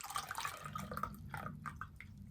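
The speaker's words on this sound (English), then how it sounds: "I'm just going to pour it out into this glass." Homemade daisy herbal tea is poured from a jug into a glass, making a soft, steady trickle and splash with a few drips, quiet and with no voices.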